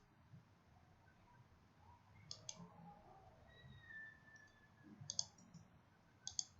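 Faint computer mouse clicks in a quiet room during network adapter setup, with a quick double click near the end among a few other scattered clicks.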